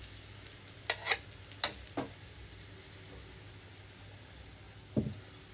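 Paneer and bottle gourd batter sizzling on a hot pan over a full gas flame, a steady soft crackle under a few light scraping and spreading strokes, close and fairly quiet.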